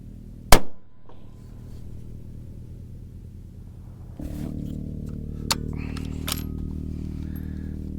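A 6 Creedmoor rifle with a 20-inch barrel fires one sharp, loud shot, followed by a short rumbling decay, then later clicks and handling noises over a steady hum.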